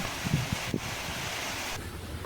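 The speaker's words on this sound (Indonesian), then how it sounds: "kerasnya tiupan angin juga menerbangkan barang dagangan yang mereka pajang di dalam warung" Strong wind roars steadily around roadside market stalls in Bima, a dense blustery rush with a few low buffeting thumps near the start.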